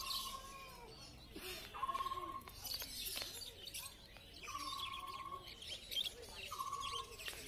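Zebra finches and Bengalese finches at an outdoor bird market give repeated short chirps and nasal beeping calls, faint and scattered over a busy background murmur.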